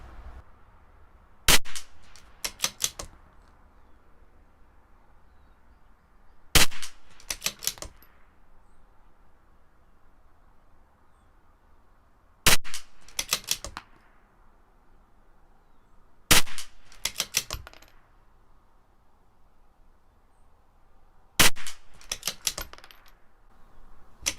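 Shots from a CZ 457 LRP .22 rifle firing Norma Match 22 ammunition at an outdoor range: five sharp cracks spaced several seconds apart, each followed by brief clattering rings, with quiet in between.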